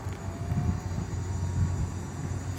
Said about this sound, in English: You can see that plane coming.